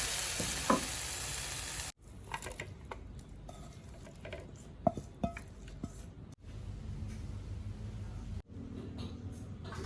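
Clown featherback fish balls are stir-fried in a pan, with soft sizzling and scattered scraping and stirring clicks at a low level, the frying noise dropping in and out a few times.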